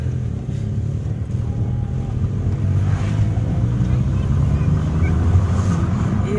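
Steady, loud car engine rumble heard close up from the speaker's former dream car, a continuous low drone with wind noise and a voice talking over it.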